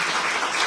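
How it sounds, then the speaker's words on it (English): Dense crowd applause at an anti-racism event, a continuous even wash of many clapping hands with no breaks, fairly loud and close. "Please give another round of applause"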